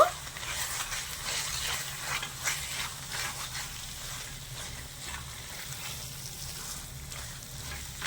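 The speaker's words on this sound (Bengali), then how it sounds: "ভালো করে মিশিয়ে তিন থেকে চার মিনিটের জন্য নেড়ে চেড়ে একটু ভাজা ভাজা করে নেব" Fried bori stirred in a pan with poppy seed, cumin and green chili paste makes a soft, steady sizzle with repeated scraping strokes of the spatula, fairly faint and close, with no talk.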